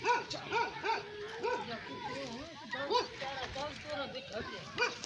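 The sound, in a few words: tracking dog barking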